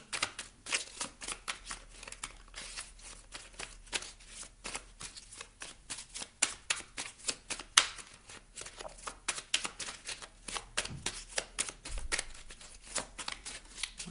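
Oracle cards riffled and shuffled by hand, a dense, steady stream of crisp flicking slaps running without break, close up and fairly quiet, with no talking.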